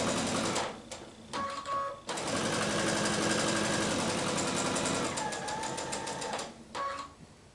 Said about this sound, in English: we're going to sew on the tag and right onto the fabric.